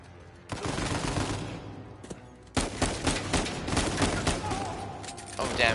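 Rapid gunfire from a PS5 shooter game, dense bursts of repeated shots crackling almost continuously over a few seconds, loud and close, with faint voices underneath.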